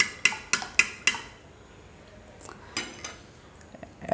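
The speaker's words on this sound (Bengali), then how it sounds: "অনবরত 10 মিনিট এভাবে আমি নাড়লাম। এই কাঁটা চামচ দিয়ে নেড়ে সব কিছু মিশিয়ে নিলাম।" A fork stirs coconut cake batter of sugar, milk, eggs and a pinch of salt in a bowl. It opens with a quick run of sharp metallic clinks against the bowl, then fades to softer, sparse taps and scraping.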